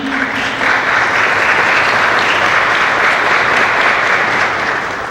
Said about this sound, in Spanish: se merece el aplauso